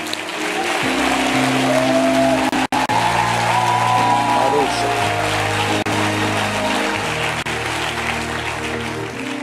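Congregation applause at a French-language church service, a dense sustained clatter of many hands filling the hall nearly nonstop, loud and close, with a brief dropout near the start.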